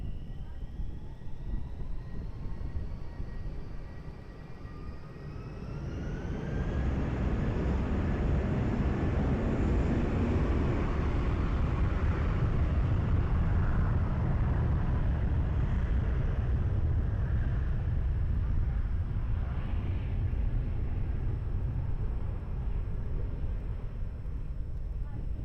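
A jet airliner taking off from runway 20 at Lisbon Airport, a rising broadband roar building after a quieter start with whining tones, then a sustained loud rumble as it accelerates and climbs.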